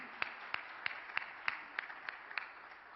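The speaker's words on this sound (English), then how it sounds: "Please give the panelists a warm round of applause," A panel audience claps for the panelists: about eight evenly spaced, fairly faint claps in a slow steady rhythm, sounding distant and thin rather than a full ovation.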